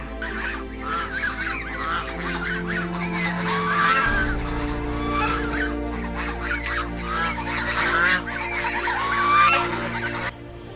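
A flock of geese honks steadily over a constant low hum, with calls rising and overlapping throughout.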